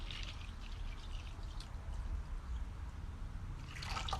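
Water pouring steadily into a container for mixing a silicone caulk and soap mold, a continuous trickling splash with a brighter gush at the end, close and moderately loud, no voices.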